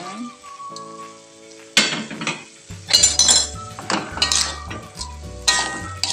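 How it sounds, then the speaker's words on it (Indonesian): Tempeh being stirred in a pan for sweet and spicy orek tempe, with intermittent metal utensil scrapes and clinks over a soft sizzle, close by, starting quiet and growing busier in the second half. "kita aduk-aduk terus sampai airnya menyusut"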